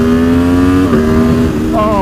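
An Aprilia Tuono V4 motorcycle with a race ECU flash and sprint filter revs loudly up close, its engine note rising and dipping in quick throttle blips with a harsh, raspy tone.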